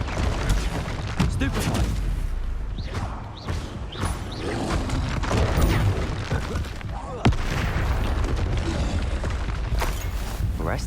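Repeated Confringo fire-spell explosions in a Hogwarts Legacy battle against goblins, dense booms and crackling blasts layered over battle noise and a continuous loud din, with voices talking throughout.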